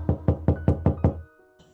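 Six sharp knocks on a bedroom door in a quick, even series, close and loud, followed by a faint quieter tap.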